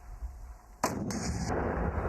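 One heavy artillery gun of a military brigade fires a single shot, a sudden loud boom that rolls into a long rumbling decay.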